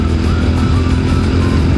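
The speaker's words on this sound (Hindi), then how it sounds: "थोड़ा सा बाइक को भगाएंगे" A TVS Apache RTR 200 4V motorcycle accelerates hard on an open road, its engine note loud, close and steady throughout with no talking.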